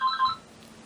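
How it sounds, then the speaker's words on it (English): A telephone rings indoors, a short electronic double trill that is loud and close, then cuts off into quiet room tone with no talking. "I apologize for the phone."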